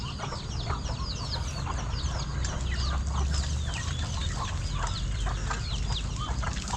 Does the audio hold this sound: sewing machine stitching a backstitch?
no